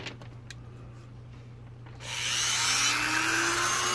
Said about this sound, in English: I'm going to go in behind that with my Dremel tool and make a hole